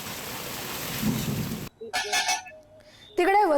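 Heavy monsoon rain pours down in Mumbai with a steady, loud broadband wash for over a second, then cuts to brief bursts of other sounds and a tonal noise near the end.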